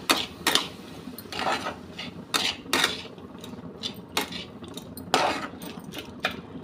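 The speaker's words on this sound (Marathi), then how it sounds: "कांद्याची पात टाकणार आहोत परतून घेऊया" Chopped spring onion greens being sautéed for a Maharashtrian baingan bharta, with repeated clinks and scrapes of a metal spatula against the pan over a low background sizzle.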